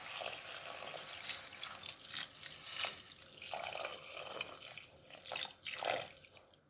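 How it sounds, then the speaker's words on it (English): Water pours into a cooking pot of vegetable chicken soup with an uneven, splashing gurgle that swells and dips, fairly soft and close, with no talk. "I'll go ahead and add in water."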